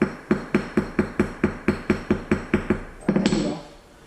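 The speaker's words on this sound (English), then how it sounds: "All I'm gonna do is I'm gonna tap this and I'm gonna straighten this out" Steady hammer taps on a bent shaft from an XMAXX 8S RC car, laid on a flat floor to straighten it. About a dozen sharp, evenly spaced metallic knocks ring close up, then a quick cluster of faster taps. No talking.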